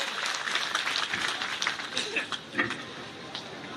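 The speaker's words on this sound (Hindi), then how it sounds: "जोरदार तालियों के साथ स्वागत करें" Crowd applause at a BJP membership induction ceremony in Vidisha, a spread of scattered clapping and cheering from a large gathering heard at moderate distance, with a voice speaking over it.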